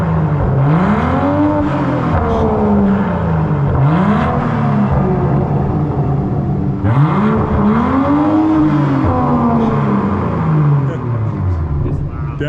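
A BMW M240i with a muffler delete revs repeatedly in a parking garage, the engine note climbing and falling in several loud, echoing sweeps, with brief pauses between the blips.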